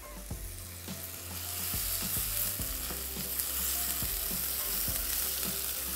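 Chicken frying in a pan with a sprig of ten to twelve curry leaves and ginger, a steady sizzle under repeated scraping and stirring knocks, with no talk.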